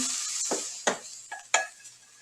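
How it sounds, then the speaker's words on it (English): A steady hiss of caramelized onions frying in a pan, with a few soft scraping stirs and clinks breaking through the sizzle. "Move that caramelized onion around."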